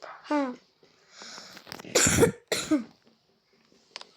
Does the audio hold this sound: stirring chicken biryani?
no